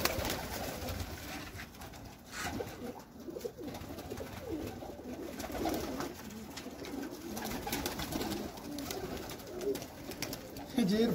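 Sialkoti sharmeelay pigeons, high-flying rooftop birds, coo softly and steadily amid a dense, continuous flock murmur, with low rolling calls throughout and a clearer coo near the end.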